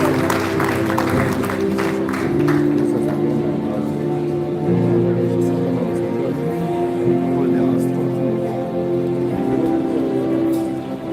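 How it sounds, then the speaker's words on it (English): A seated audience at a birthday symposium gives a steady round of applause, the dense, even patter of clapping sustained throughout, with a speaker's voice carrying over it. "Please give me a round of applause."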